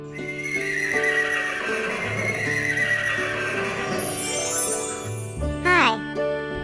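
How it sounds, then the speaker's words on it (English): A horse whinnies loudly with a rising, quavering neigh near the end, preceded by steady clip-clop of hooves, all set against a bright, cheerful farm-song music bed. "H-O-R-S-E, horse."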